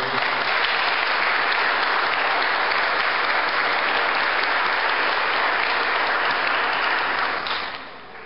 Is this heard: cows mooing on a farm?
no